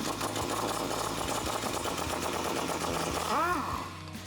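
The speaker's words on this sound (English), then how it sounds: "To do this, you're going to need a 19mm socket and an impact." An impact wrench with a 19mm socket spins off a sway bar link nut on a 2007-2021 Toyota Tundra, giving a steady, fast rattling hammer close to the mic for about three seconds before it winds down.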